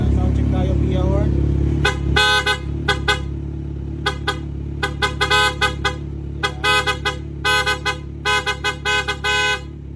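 A rewired PA horn on a Kawasaki Z1000 motorcycle honks repeatedly in short and longer bursts over a steady idling engine, with brief talk at the start.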